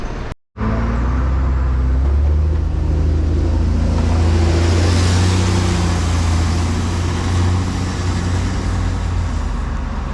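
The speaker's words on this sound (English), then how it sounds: "Right, off goes the Optare Solo, D&G bus Optare Solo." A D&G Optare Solo bus pulls away nearby, a steady, loud engine drone with rising low rumble that fills the whole stretch after a brief cut near the start.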